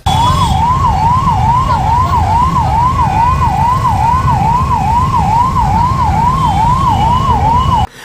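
Ambulance sirens wail in a rapid, regular rising-and-falling cycle, loud and close, from vehicles stuck in a road traffic jam during a protest blockade in Rewa, with a low rumble of traffic underneath before the sound cuts off abruptly.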